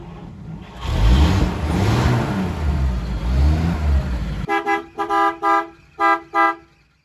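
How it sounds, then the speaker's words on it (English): A classic car at a collection auction rumbles as its engine starts in neutral, then gives several short, loud horn toots close by. No one speaks. "you start the car in neutral"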